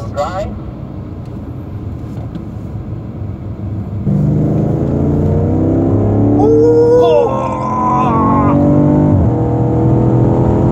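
A 2018 BMW M5 (F90) on the Sepang circuit: quiet rumble at first, then the engine note jumps up and climbs in layered, rising tones as the car accelerates hard.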